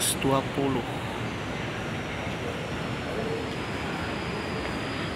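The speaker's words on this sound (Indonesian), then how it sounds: "Oke, kita lagi tunggu nih keretanya." Airport rail link train at Soekarno-Hatta station, a steady loud rumble of rail noise filling the platform, with brief voices near the start.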